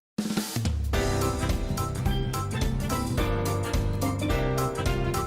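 Main menu music from the Nintendo Switch version of Go Vacation kicks in after a brief pause, a loud, busy, cheerful track with a driving bass line and punchy rhythmic beats.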